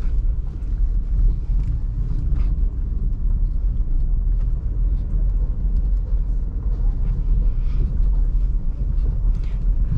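A Maruti Swift automatic idles along at low rpm through market traffic, its engine a steady low in-cabin rumble with road noise and continuous loudness.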